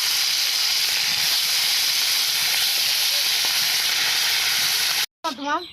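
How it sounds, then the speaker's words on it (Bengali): Pieces of rohu fish, rubbed with salt and turmeric, hiss loudly and steadily in hot oil in a heated kadai. A voice cuts in briefly right at the end. "মাছ ভাজবো তাই মাছগুলো দিয়ে দিচ্ছি।"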